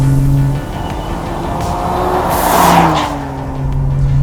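Nissan Skyline GT-R Nür engine with an 8,000 RPM redline, revving: a close engine note that dips, then climbs to a loud rev peak and falls back, over a steady background hum.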